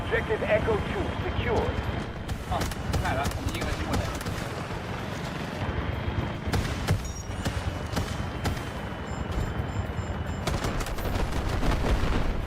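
Gunfire in the Delta Force video game rattles in repeated bursts and scattered shots throughout a busy, noisy battle, with voices talking over it.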